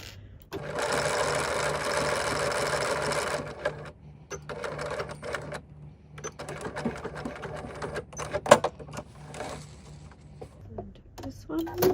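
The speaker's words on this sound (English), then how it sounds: "I'm going to sew it up this way so that I've got on the front my Glamour fancy thread" Sewing machine stitching with Glamour fancy thread in short close bursts, a long run first and then choppier stops and starts, with a voice talking in places.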